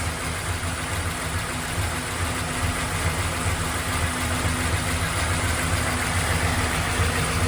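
A 1996 Chevrolet Impala SS fitted with a 383 engine idles in a steady, even rumble, loud and close, with no talk over it.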